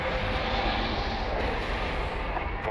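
Starfighter in Star Wars: Squadrons launching from a hangar, a steady broadband engine roar with a deep rumble that holds at an even level throughout, with no talking.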